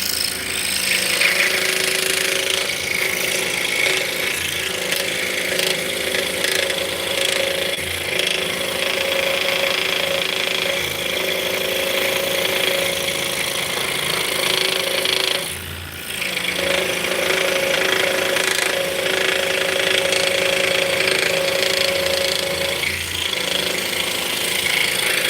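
A power saw runs continuously while cutting wood blanks for drop spindles, a steady loud mechanical whine with a brief dip midway before resuming at full level.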